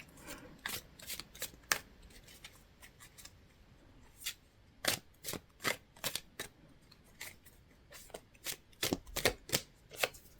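Rapid riffling and snapping of tarot cards being shuffled close up, in repeated quick bursts with brief pauses, no voices.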